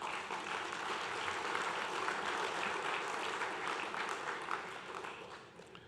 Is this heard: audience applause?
yes